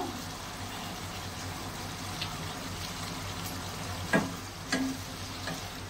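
Fried chicken pakoras and a little sugar tossed into a hot pan for chilli chicken, giving a steady low sizzle with a few sharper scrapes and clinks of stirring near the end.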